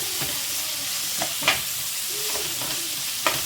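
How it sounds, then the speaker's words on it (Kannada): Large-cut onions sizzle in oil in a pan for an okra (ladies finger) curry as a spatula stirs them, soft frying hiss with several sharp scraping strokes, close up and without talk. "ಈಗ ಮಿಕ್ಸ್ ಮಾಡ್ಕೊಳ್ಳೋಣ. ಚೆನ್ನಾಗಿ ಸ್ವಲ್ಪ ಫ್ರೈ ಆಗಲಿ."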